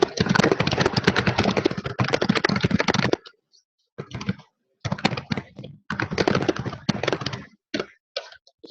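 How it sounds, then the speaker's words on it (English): Fast typing on a computer keyboard, heard close up in dense bursts of key clicks separated by short pauses, with no talking. "I will type it."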